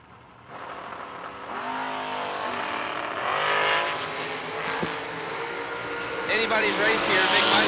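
Drag race cars launch at a drag strip, including a dragster, a rising engine roar that swells and recedes at a distance while an announcer talks over it.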